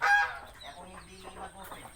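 Chickens near their laying nests on a farm give a brief burst of clucking, with softer fowl calls trailing off close by, alone and fairly faint.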